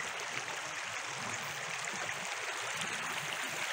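A stream flows steadily nearby, a constant broadband rush and gurgle of water with no breaks, moderately quiet and unaccompanied by voices.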